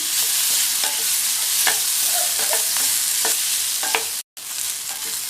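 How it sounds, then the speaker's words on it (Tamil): Carrots stir-fry in oil with a close, bright sizzle. Scattered scrapes and clinks from the stirring utensil run through it, and a brief dropout near the end cuts the sound. "இந்த கேரட்டை 2 நிமிஷம் போல் இந்த எண்ணெயிலேயே நல்லா இந்த மாதிரி ஃப்ரை பண்ணிக்கணும்"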